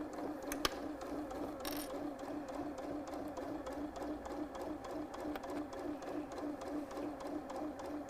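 A sewing machine stitches binding onto a quilt with a fast, even mechanical whir and needle tapping that runs steadily throughout, fairly quiet and close, with a couple of faint clicks near the start.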